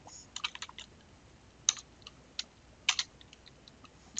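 Code being typed on a computer keyboard, a sparse run of crisp, close key clicks in short bursts with pauses between them and no talking.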